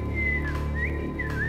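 A voice imitates eerie whistling wind on a mountain, a steady warbling whistle that rises and falls in slow swoops, close and fairly loud with no talk.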